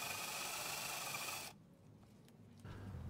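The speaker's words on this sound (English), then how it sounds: "we are now at the point of drilling for future tapping" Drill bit boring through a hard top support mount on a Catalina 350 sailboat at the docks, a steady close grinding rasp for about a second and a half, then quieter rustling before the cutting resumes.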